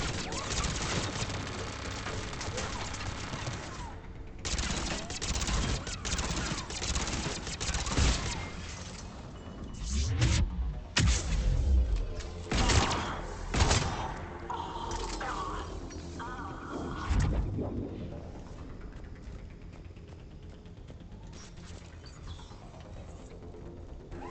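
Turret gunfire in the sci-fi shooter Mass Effect 3 on Eden Prime: bursts of automatic fire and sharp cracks that build in the middle, then fade to quieter rumbling combat with a voice speaking at times.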